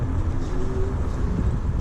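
An electric scooter's motor runs with a steady low rumble and odd noises, a faint whine coming and going over continuous road and wind noise, with no one talking.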